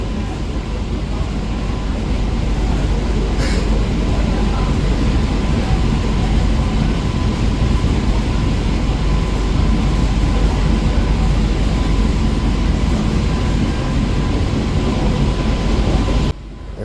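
A train pulls into Barrackpore station at the end of a 50-kilometre run from Ranaghat, giving a steady, loud rumble and rattle of wheels on track that holds for about sixteen seconds before cutting off.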